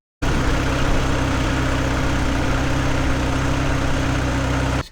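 A Mini Cooper engine fires up just after a fuel filter replacement and settles straight into a loud, steady, close idle with a constant low rumble until it cuts off at the very end.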